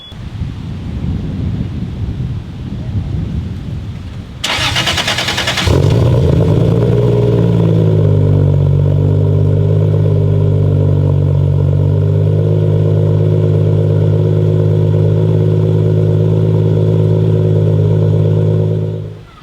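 A Toyota Aristo with a 3.0-litre 2JZ engine and custom stainless exhaust cranks over and fires after a quiet stretch of background noise, then settles into a loud, steady, deep idle close by.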